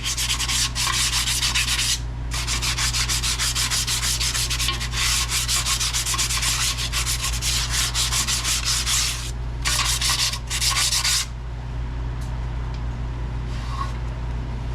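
Nissan Titan parking brake shoes are scrubbed with emery cloth in rapid back-and-forth strokes, a close, continuous rasping that pauses briefly a few times over a steady low hum.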